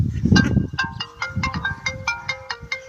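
A phone ringtone rings in a repeating melodic pattern of bright beeping tones, fairly loud and close, with a brief burst of low noise at the start.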